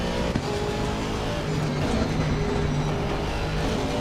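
A GT3 race car engine in the Forza Horizon 6 racing game drones steadily and loudly at a constant high pitch throughout, with no speech.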